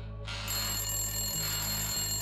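A telephone bell rings continuously and loudly in a quiet room in a narrated horror story, with two brief low thuds partway through and no speech over it.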